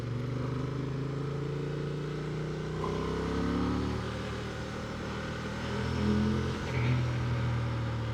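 Honda Transalp XL750 motorcycle engine pulling under throttle on a sunny ride, a steady low drone that swells with each roll-on and shifts pitch slightly, with wind rush over it and no talk.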